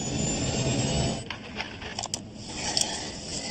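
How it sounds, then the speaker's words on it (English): A steady broadband rushing roar of air streaming hard over an airliner windscreen in a steep dive, engines over-revving, loud throughout with a few brief clicks and higher whines near the end. "we picked up what's called a windscreen noise"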